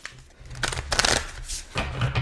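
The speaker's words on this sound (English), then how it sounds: "I'm going to do a quick shuffle because I haven't shuffled these decks yet." A deck of oracle cards is shuffled by hand in quick bursts of papery riffling and slapping, close and fairly quiet, with short pauses between the shuffles.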